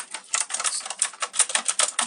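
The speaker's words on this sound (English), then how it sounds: "Tapping on the keys, it sounds really nice" Keys on a STOGA mechanical keyboard with floating keys clatter in quick, uneven bursts of sharp clicks, close and fairly loud with no voice over them.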